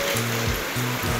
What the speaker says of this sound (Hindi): मैं जैसे ही घर पहुँची ना, वैसे थोड़ी देर में बहुत ज़ोर की बारिश आई।